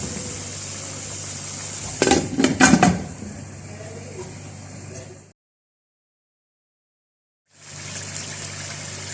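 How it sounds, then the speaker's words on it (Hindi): A lid set onto a karahi pan holding creamy chicken white karahi, a brief cluster of metallic clatters over a steady background hiss, followed by a stretch of silence. "अब मैं इसको लीड लगा रही हूँ"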